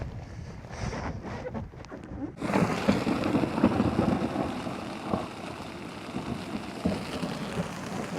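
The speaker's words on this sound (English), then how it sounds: "Started raining literally as I stepped out of the boat, and then I heard the rumbles in the distance" Soft ambience on Georgian Bay, Ontario, gives way after a couple of seconds to a steady wash of rain, with low rumbles of distant thunder underneath.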